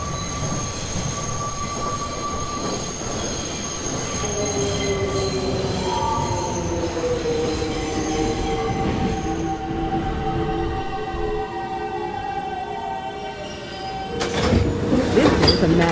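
A New York City subway 1 train in motion, its wheels squealing loudly in long sustained metallic tones that slide in pitch over the rumble of the cars, with a sharp burst of screeching near the end.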